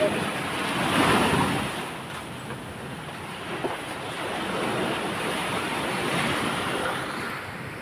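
Rough sea surf rolls in as a steady, broad roar, with wind buffeting the microphone and swells rising and easing across the whole stretch.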